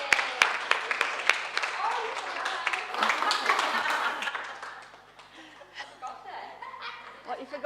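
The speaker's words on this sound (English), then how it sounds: "So let's give a big round of applause." An audience claps for carers at a Music for the Mind session, steady applause mixed with scattered chuckles and laughter that thins out and fades into murmuring toward the end.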